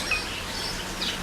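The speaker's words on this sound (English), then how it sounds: "A bird. How pretty." A bird gives a few short, thin chirps, faint and spread apart over a constant outdoor hiss.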